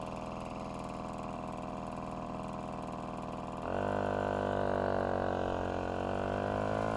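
Single-speed moped engine idling with a steady putter, then revving up at low throttle into a louder, higher sustained drone, close and alone.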